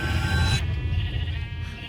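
Sheep on a Minecraft sheep farm bleat in a dense, overlapping chorus of many animals. A loud, steady bleat cuts off partway through, then softer calls continue alone.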